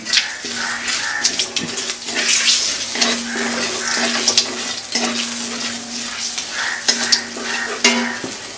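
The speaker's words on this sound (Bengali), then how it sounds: "কড়াইটা কিন্তু বেশ গরম হয়ে গেছে বোঝাই যাচ্ছে এখন একটু নাড়িয়ে চাড়িয়ে নেবে" Ingredients for a rohu fish curry with cauliflower and potato are stirred in a very hot kadai, with constant loud sizzling and repeated scraping strokes of the spoon, close up and without speech.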